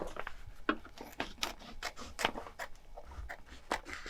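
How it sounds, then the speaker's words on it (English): Scissors cut through heat transfer vinyl in a quick series of quiet, crisp snips and rustles close by. "we're gonna get our scissors and we're gonna cut it."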